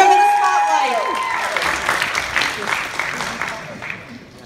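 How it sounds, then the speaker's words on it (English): An audience at a school talent show claps and cheers, loud at first and then slowly fading, after a few sustained musical tones at the start. "Give them a round of applause."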